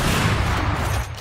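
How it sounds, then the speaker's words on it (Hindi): Rapid gunfire in the shooter game Valorant, a dense burst of overlapping shots that is loud and close, then fades slightly near the end, with no talking. "गोलियों की आवाज आ रही है"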